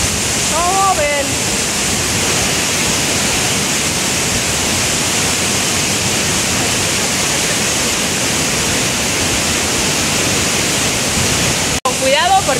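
La Burbuja waterfall near Amecameca during the rainy season, a loud continuous rushing roar of falling water close by, with a short voice at the start and a brief dropout near the end.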